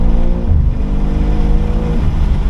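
A 2023 BMW M2 (G87) drives on a race track at an easy early-lap pace, its engine note a loud, steady low drone with a slight rise and fall in pitch as it pulls along, no talking.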